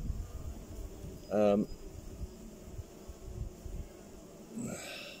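Honeybees buzz faintly around an open top bar hive during an inspection, a low continuous hum with a couple of brief louder passes close by, while a person speaks quietly.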